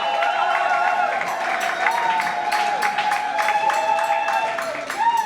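A wedding audience applauds and cheers, a dense, continuous patter of clapping from a crowd with music playing underneath throughout.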